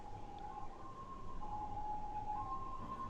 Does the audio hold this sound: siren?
yes